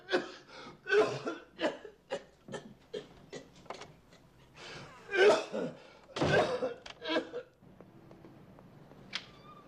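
A man coughs in a rapid series of harsh bursts, then pauses and gives a few more, close and fairly quiet.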